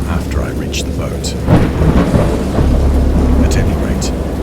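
A thunderstorm from the video game Dagon: heavy rain falls continuously while deep thunder rumbles and rolls near and loud, with scattered sharper cracks above the downpour.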